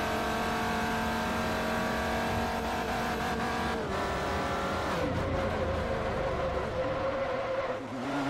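An LMP1 prototype race car in Forza Motorsport 4 drones with a loud, constant engine roar that shifts pitch as it revs and changes gear, close up and with no talking.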